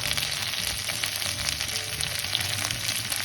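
Cauliflower sizzles and crackles steadily in a hot pan, a dense close frying hiss without pauses and no voices over it.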